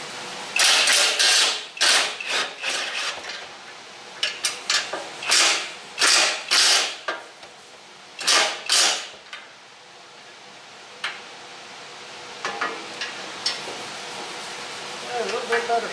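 A socket wrench turns bolts and nuts, giving bursts of close, sharp ratcheting clicks in quick runs separated by quieter pauses.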